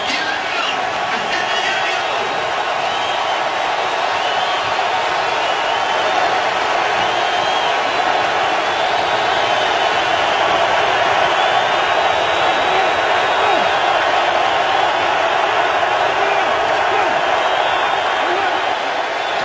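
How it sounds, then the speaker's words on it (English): Loud, sustained roar of a packed NFL football stadium crowd cheering and yelling before a third down in a Chargers–Seahawks game, a dense wall of noise that holds steady and swells slightly midway. "you can rest assured this crowd is going to let it rip for this third down"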